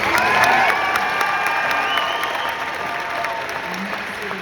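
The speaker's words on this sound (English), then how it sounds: "Please give a big, warm round of applause for the team here at Jacksonville." A room full of people at a zoo conservation presentation in Jacksonville applauds warmly, the clapping loud at first and slowly tapering, with a few faint cheers and whoops mixed in.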